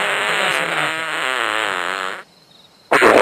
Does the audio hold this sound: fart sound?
yes